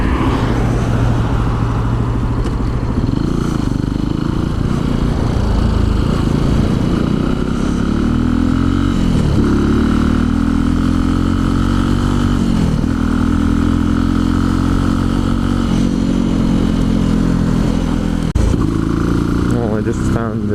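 A Benelli 135 motorcycle climbs a hilly road, its small engine droning loudly and continuously with rising and falling pitch as the rider works through the gears.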